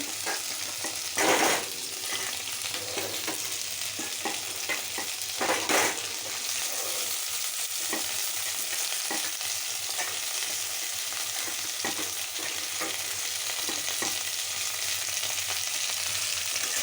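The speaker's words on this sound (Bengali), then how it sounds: "কাঁঠালের বীজ, এটাকে ভেজে তুলতে হবে এটার সাথে।" Jackfruit seeds fry with potatoes in a pan, a continuous even sizzle with occasional louder stirs and a few clinks of the spoon, close and steady throughout, without speech.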